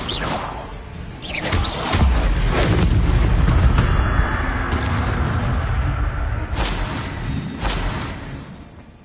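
An Incendio fire spell cast in a Harry Potter video game, a whooshing burst that swells into a deep roaring boom and slowly fades, followed by sharper swishes.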